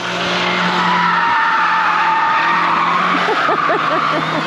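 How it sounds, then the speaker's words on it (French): A car skids and brakes hard on a dirt track at a demolition derby event, a loud continuous scraping tire squeal over a roaring engine, close and sustained throughout with a wavering tone near the end. "Allez, ça sent le coup de frein là."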